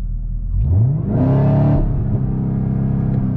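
A Chevrolet Camaro ZL1 engine revs and accelerates on a backroad, heard from inside the car as a loud, rising roar that climbs through the revs, then settles into a sustained drone.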